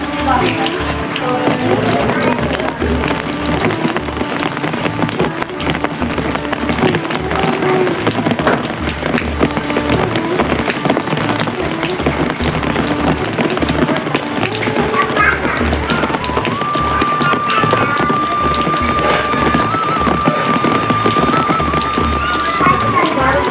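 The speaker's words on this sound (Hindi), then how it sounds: "बहुत ज़्यादा बारिश हो रही है" Heavy rain pours steadily in a dense, unbroken wash of noise during a cloudy downpour at a house with a leaking roof, loud and continuous, while someone talks over it in the room.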